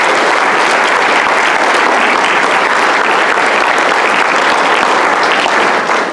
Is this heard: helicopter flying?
no